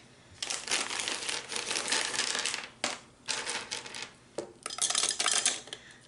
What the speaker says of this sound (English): So once you get some candy in there, kind of shake it around so you can get your tube in the center.